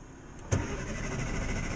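A Morris Minor car engine cranks and catches, then settles into a steady, close running idle that continues to the end.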